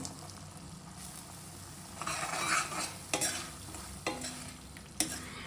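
Roasted peanuts get stirred into a frying tamarind rice paste (puliyogare gojju) in a pan, with a soft sizzle under several scraping stirs and sharp clinks of a spoon against the pan.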